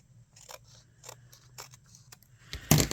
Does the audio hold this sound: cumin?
no